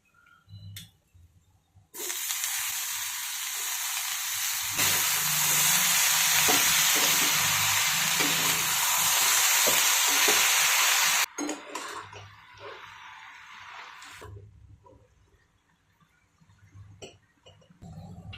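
Loud, steady sizzling of eggplant frying in a pan without water, with scraping stir strokes throughout; the sizzle drops back to a quieter crackle near the end.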